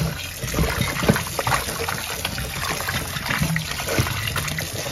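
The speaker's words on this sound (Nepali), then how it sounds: "धमिलो पानी जाने गरी पखाल्नुपर्छ" Chayote squash roots are rinsed in water to wash off muddy runoff, with steady trickling, sloshing and light splashing close by and no talking.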